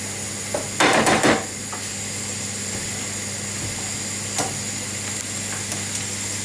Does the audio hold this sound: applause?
no